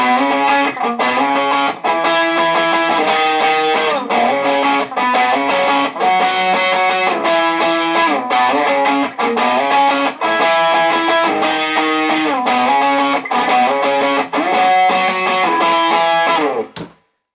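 A distorted electric guitar plays a continuous repeating riff of sliding two-note shapes, loud and steady, with no talking.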